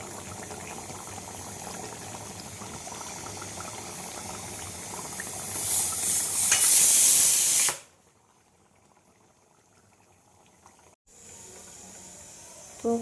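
Fish curry of cut rohu pieces simmering in a pan with a little ghee, a steady bubbling sizzle that rises to a loud hiss, then cuts off, leaving near silence before resuming briefly.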